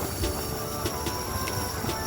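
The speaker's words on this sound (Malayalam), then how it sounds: "അപ്പം അതാ ഒരു ട്രെയിൻ വരുന്നുണ്ട്" A MEMU train rumbles past nearby with a steady broad roar and faint rhythmic clatter from the wheels, with no voices.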